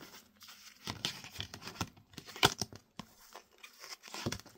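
A card drawn from a cartomancy deck, with papery shuffling, sliding and crinkling of cards at close range, in irregular soft bursts without speech.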